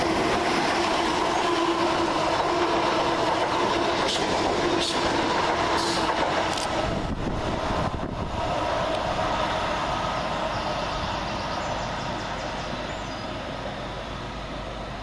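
Class 321 electric multiple units pass through Gidea Park station with a steady, loud rumble of wheels and clattering rail joints, plus brief squeals, fading slightly toward the end.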